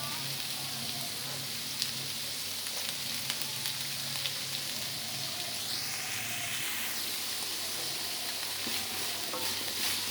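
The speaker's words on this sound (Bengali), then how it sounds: "গাজরটাকে একটু ভেজে নিয়ে দিয়ে দিচ্ছি বাঁধাকপিটা" Carrot and cabbage fry in a pan for vegetarian chowmein, a steady close hiss of sizzling oil with occasional stirring scrapes running throughout.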